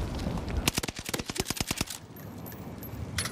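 Automatic fire from an NZ-41 rifle in a first-person shooter, a rapid string of about a dozen close, loud shots in a tight rhythm that stops abruptly, followed by quieter game ambience and a faint swell near the end.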